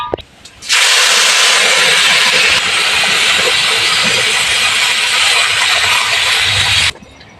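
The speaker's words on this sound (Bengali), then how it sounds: "এবার আমি পানিটা পরিমাণ মতো দিয়ে দেবো" Water poured into a pot of fried rice for pilaf hits the hot grains with a loud, steady sizzling hiss lasting several seconds before cutting off abruptly.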